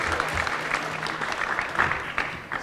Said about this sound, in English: Give her a round of applause, too.